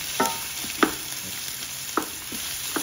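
Onions and peppers sauté in oil in a pan, giving a continuous close sizzle with four or five distinct stirring scrapes spaced through it, no talking.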